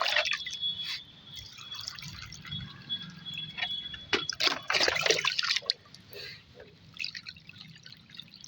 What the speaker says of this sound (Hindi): सारे गमलों में पानी दे देंगे